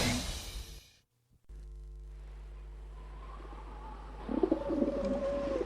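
Pigeons coo in a dubbed animated science-fiction series, soft burbling calls rising later in the scene over a steady low hum after a brief silent gap.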